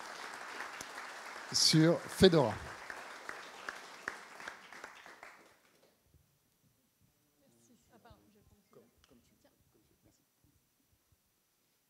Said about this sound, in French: Mesdames et messieurs, je vous propose d'applaudir Edilia et de l'accueillir